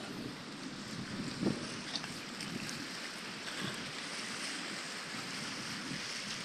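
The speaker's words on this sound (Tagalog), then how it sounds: "Kaya medyo malakas yung panahon. Este yung alon pala. Hangin." Steady strong wind rushes over continuous rough wave wash on a rocky shore, a constant outdoor roar with no voices.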